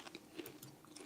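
Close, soft crunching and chewing of snacks eaten from a bag, a quick run of small bites and crackles at low volume.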